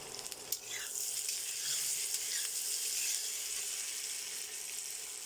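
Peas are tipped into a pan of frying papaya and sizzle in a steady, soft, hissing fry, with a brief clatter as they go in.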